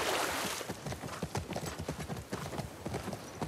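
Horse hooves clip-clopping in a post-apocalyptic video game, a quick, steady rhythm of hoof strikes close by, loud and mostly alone after a brief burst of noise at the start.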